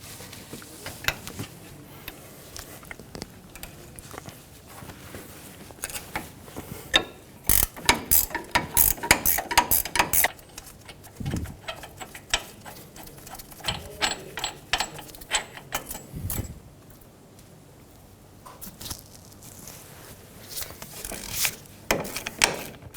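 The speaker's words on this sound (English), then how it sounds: "We're going to remove the 4 18mm bolts out of the back of the wheel bearing" A ratchet clicking in quick bursts while removing the four 18mm wheel bearing bolts on a 2007-2017 Ford Expedition front hub, with metallic clinks, rubbing and pauses between runs, close and fairly loud.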